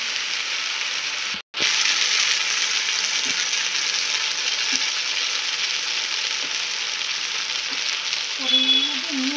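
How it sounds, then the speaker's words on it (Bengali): Spice paste (masala) frying and being stirred in a pan gives a steady, bright sizzle after a brief silent gap near the start, with occasional soft scrapes from stirring. "মশলাটা সুন্দর করে কষানো করে, মশলা কষানোর পরে রান্নার টেস্টটা মশলাটা কষিয়ে নিতে হবে।"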